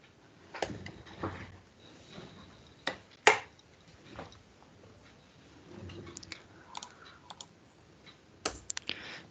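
Keystrokes clack on a computer keyboard, typing out a button name during app development, in sparse irregular bursts of sharp clicks with pauses between, near and fairly quiet, with no talking.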